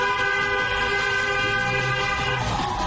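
A car horn blares loud and close in traffic behind a slow-moving scooter, one sustained flat honk that holds steady without a break over road noise.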